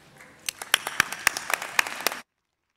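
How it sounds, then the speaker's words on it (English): Crowd at a UT Dallas doctoral hooding ceremony claps for friends and family, starting faint and growing into distinct, irregular hand claps, some loud and close, before stopping abruptly. "would you please join me in standing and applauding the friends and family that helped get you here?"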